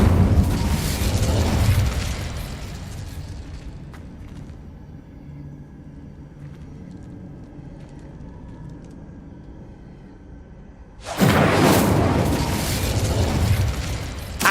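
Incendio fire spell cast in Hogwarts Legacy: a loud, broad roaring burst of flame opens, fades to a quieter ambient bed, then a second fiery roar erupts near the end and carries on.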